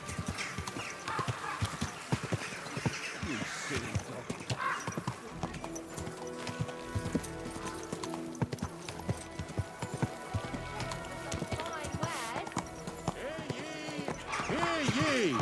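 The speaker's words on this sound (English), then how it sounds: "Easy, good horse." In the medieval game Kingdom Come: Deliverance II, a horse's hooves clip-clop in a steady rhythm while the animal whinnies and snorts, with a louder neigh rising near the end over the plodding steps.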